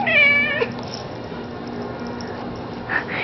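A cat gives a drawn-out, rising and falling meow up close, followed by a quieter chirp near the end over soft background noise.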